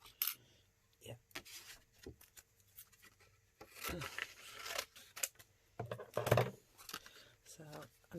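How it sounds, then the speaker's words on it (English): Scissors cut a piece of card stock or paper for a handmade stamped card, giving a few short snipping and rustling sounds spread across the clip with quiet gaps, close and soft. "I'm just going to cut a piece off this"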